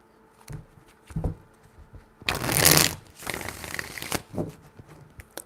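Tarot cards are shuffled close by in a few quick riffling bursts, the loudest and longest in the middle, with light handling taps between.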